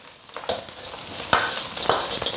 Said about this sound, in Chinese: 下排骨，先用大火快速的煸炒